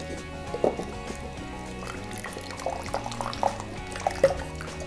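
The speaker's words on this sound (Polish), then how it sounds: "Troszkę wody. Może być od yerba mate. Musimy to opłukać." A yerba mate gourd is rinsed out with a little water, giving small splashes and drips, soft and close under steady background music.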